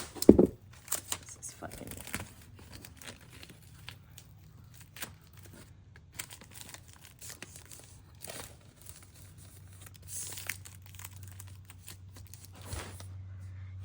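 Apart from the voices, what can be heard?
duct tape being applied over a rotten doorframe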